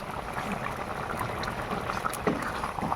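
Tilapia curry with cauliflower and potato in cumin paste bubbles at a steady simmer, a soft continuous burbling with scattered small pops, fairly quiet and alone.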